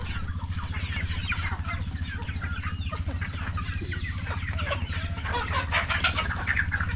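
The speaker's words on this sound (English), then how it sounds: "Chicks are just fighting over you." Chicks on a working farm in the Philippines squabble and cluck close by, a busy overlapping chatter of chirps and clucks over a steady low hum.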